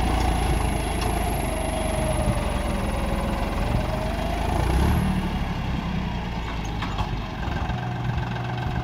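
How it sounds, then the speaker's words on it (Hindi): A John Deere 5310 GearPro tractor fitted with a dozer blade runs its engine in a steady, close, low-pitched rumble with a constant vibrating drone for nearly nine seconds, with no talking. "बिना शटल वाले काफ़ी सारे दूसरे ट्रैक्टरों से ब्लेड पर जॉन डियर के ट्रैक्टर बेहतर परफॉर्म करते हैं"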